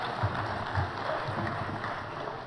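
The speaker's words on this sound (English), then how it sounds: "give yourself a round of applause" An audience at the Raiders' Choice Awards ceremony applauds, a soft, somewhat distant wash of clapping that stays steady for a couple of seconds before fading a little.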